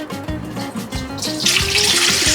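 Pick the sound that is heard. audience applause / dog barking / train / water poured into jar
water poured into jar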